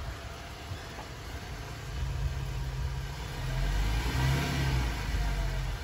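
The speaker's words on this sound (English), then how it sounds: "Just rev the engine." Car engine revving in a vehicle, a low steady rumble that swells louder twice as the throttle opens, close and continuous with a hissy background.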